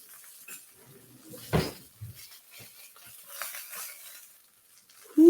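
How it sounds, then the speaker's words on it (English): A serving spoon knocks against dishes while stuffed cabbage with chili soy is served, a few scattered clinks and a solid thump, close but fairly quiet, ending with a brighter ring. "Get a serving spoon."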